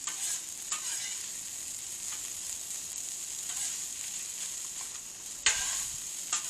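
Shrimp fried rice seasoned with sesame seed oil sizzles steadily on a hot cooking surface while it is stirred, with a few scraping strokes and a sharp utensil clack near the end.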